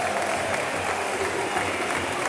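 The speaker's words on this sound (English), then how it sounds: "There's Tristan Kramer coming over, applauding the away fans" Crowd of away fans at a Charlton Athletic versus Millwall football match applauding, a dense steady roar of clapping filling the stadium, with a commentator speaking over it.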